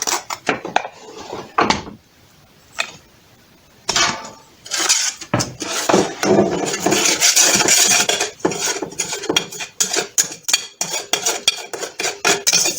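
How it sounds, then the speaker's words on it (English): Seasoned whole chicken with sazon gets stirred in a slow cooker, close loud scraping and rubbing strokes, sparse at first and then quick and repeated, with no talking. "Now I'm going to stir this up"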